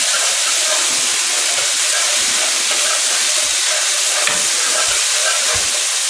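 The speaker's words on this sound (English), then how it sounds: "I'm going to put another tablespoon of garlic and ginger paste there. Give that a nice stir." Garlic and ginger paste fries with a loud, steady sizzle and hiss in a curry pan, with a few soft scrapes from stirring, close up and without talk.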